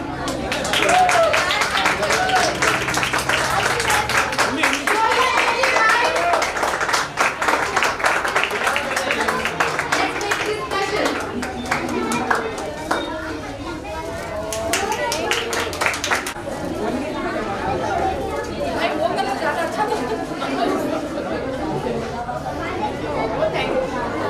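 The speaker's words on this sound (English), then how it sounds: "Everyone, please give a huge round of applause." Crowd applause at a school expo, sustained clapping from a large audience with chatter and children's voices mixed in, loud and steady before gradually thinning into crowd talk.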